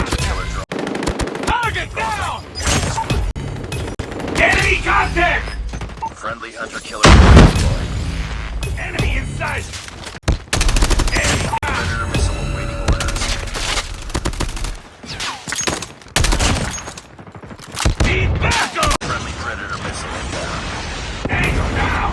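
Rapid automatic bursts from an AK-117 rifle in the mobile shooter Call of Duty Mobile, loud and near, with repeated volleys, explosions and game effects over a steady music bed, no talking.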